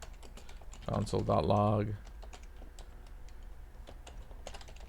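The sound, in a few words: typing code on a computer keyboard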